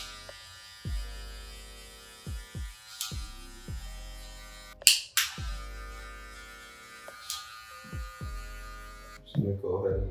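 Electric hair clippers with a half guard detailing a taper haircut, a close steady buzzing hum that starts and stops in short bursts with brief pauses between passes, and a faint voice at the very end.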